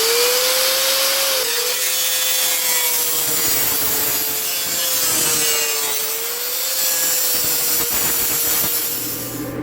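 A stove flue pipe is cut to length with a loud, close, continuous rasping cut that carries a steady whining tone, without pause for about ten seconds.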